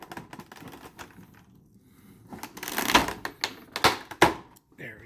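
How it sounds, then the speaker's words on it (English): Plastic blister packaging from a Tamamo no Mae police fox figure being pried open: quiet rustling at first, then a run of louder crinkles, snaps and sharp plastic pops, close and alone. "let's go ahead and get the blister open"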